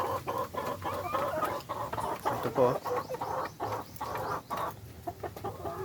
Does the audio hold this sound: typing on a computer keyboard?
no